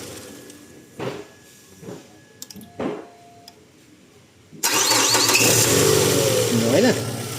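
A car engine is cranked again after a few hesitant starter bursts and clicks, then catches and settles into a loud, steady idle close by, with people talking over it.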